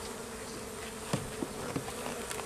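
Honeybees drone on frames lifted from a weak hive during an early spring inspection, a continuous close buzzing swarm sound with a few louder individual bees passing by, no voices.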